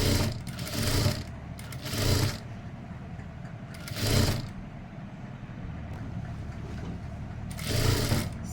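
A sewing machine stitches a chudithar sleeve in bursts, four separate runs of steady mechanical whirring with quiet pauses between, close and fairly soft, no talking.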